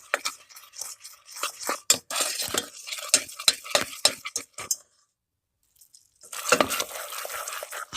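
A metal spoon stirred rapidly through sugar syrup in a pan, a dense string of quick scraping clinks close by, breaking off briefly into silence before resuming.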